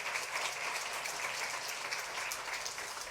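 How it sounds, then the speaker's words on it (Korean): A church congregation at Sunday worship applauds to welcome a returning member, a continuous, even wash of many clapping hands, moderately soft and steady from start to finish. "뜨거운 박수를 한번 환영할까요?"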